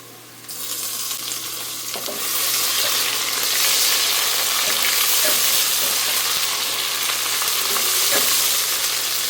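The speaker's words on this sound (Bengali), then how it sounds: "আদা রসুন হালকা একটু ভেজে নিব" Ginger-garlic paste hits hot oil with fried onions for a Bangladeshi lentil dal with drumsticks, a sudden sizzle that swells into a loud, continuous crackling hiss with occasional stirring clicks.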